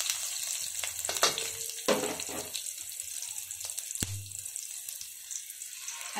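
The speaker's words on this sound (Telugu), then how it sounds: "అల్లం వెల్లుల్లి పాయ వేస్తుంది" Ginger, garlic and onion go into a pan while a spiced tomato rasam is being made. A soft sizzle runs through, joined by water-like splashing and a few sharp clanks of a utensil against metal, with no speech.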